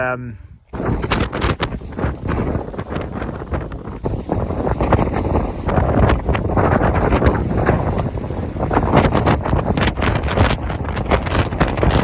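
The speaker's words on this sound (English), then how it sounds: "this insane wind blew in" Strong, insane gusts of wind roar into the microphone outdoors in a garden potato patch, a loud continuous buffeting rumble with fluttering bursts that runs almost unbroken for the whole stretch.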